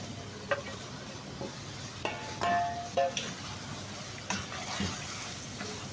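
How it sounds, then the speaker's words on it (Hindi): Masala spices for chicken biryani being stirred and fried in a pan: a soft steady sizzle with scattered spoon scrapes and clinks, quiet and close. "मसाला डालने के बाद 2 मिनट तक इसको भुनाई करेंगे इसकी।"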